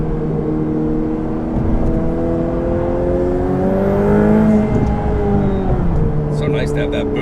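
Ferrari 488 Pista engine under acceleration, a steady rising whirring drone with harmonic tones shifting in pitch, heard from inside the cabin throughout.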